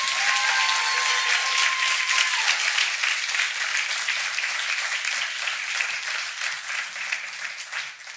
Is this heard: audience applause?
yes